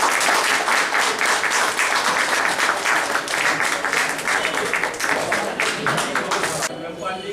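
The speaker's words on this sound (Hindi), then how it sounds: "ताली जोर से बजाइए।" An audience applauds at a retirement ceremony with loud, continuous clapping from many hands that stays close and full for several seconds, then fades a little at the end, with no clear speech.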